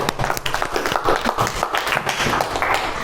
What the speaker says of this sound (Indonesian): beri tepuk tangan untuk Mas Aidan